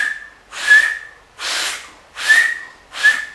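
Four sharp finger whistles on a steady high pitch, each roughly half a second long with short gaps between, close and loud with breathy edges and no talk.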